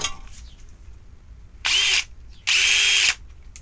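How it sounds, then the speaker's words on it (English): A handheld power drill runs in two short bursts, the second longer, loud and close with brief quiet between them and a spin-down tail after each. "Favorite drill."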